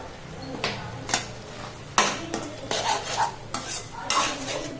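Snake gourd kootu is stirred in a pan, with a series of close, rhythmic scraping strokes of a utensil against the pan over a soft background.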